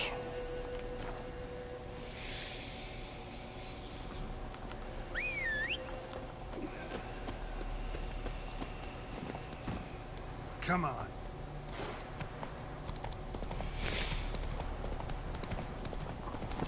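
Roach the horse galloping in a video game, a steady rhythmic clip-clop of hooves running throughout under game music and ambience, with a voice speaking briefly.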